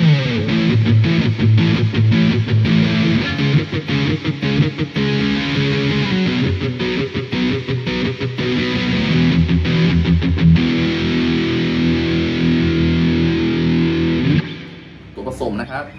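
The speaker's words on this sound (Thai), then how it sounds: "มาฟังเสียงแตกกัน" Distorted electric guitar from a 2020 Squier Stratocaster HSS Affinity on its humbucker pickup, played as a continuous stretch of gritty overdriven chords and riffs at steady volume, cutting off near the end.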